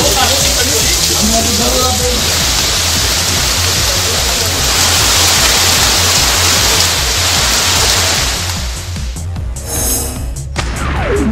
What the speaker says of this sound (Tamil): உத்தம் நகர் பகுதியில் பெய்த கனமழையால் சாலைகளில் தண்ணீர் பெருக்கெடுத்து ஓடியது.